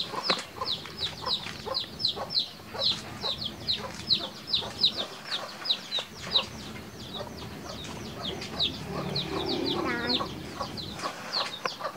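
Chickens cluck in a coop, a dense run of short repeated calls from several birds at close range throughout, with scratching and shuffling underneath and a brief lower burst near the end.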